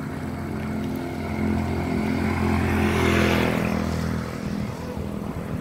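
A motorboat engine approaches at a beach, a steady drone that swells louder toward the middle and then eases slightly as it passes, over outdoor background noise.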